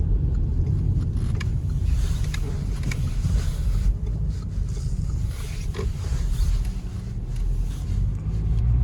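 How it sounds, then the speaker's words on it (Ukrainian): 2011 Renault Megane with automatic gearbox driving, a steady loud road and engine rumble under faint hiss, with the shifts hard to pick out in the drone. "Ось бачимо, коробка перемикає дуже плавно, вчасно."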